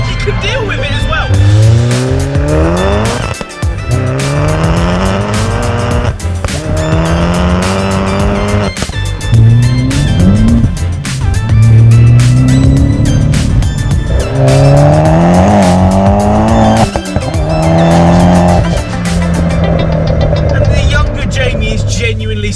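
A 310 bhp hybrid turbo, fully forged Vauxhall Corsa VXR with an uprated gearbox is driven hard, its engine revving up repeatedly through gear changes with loud rising pitch sweeps and turbo whooshes, while people talk.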